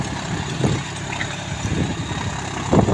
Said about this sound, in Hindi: ठीक ठाक स्पीड से चल रहा है ट्रैक्टर, इतना धीरे भी नहीं है।